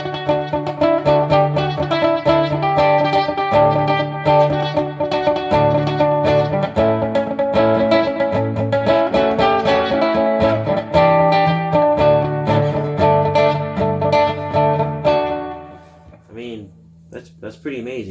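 A nylon-string guitar run through a Fender Smolder acoustic pedal, played as a loud, continuous distorted chordal riff with effects, then fading to a few scattered plucked notes at the end.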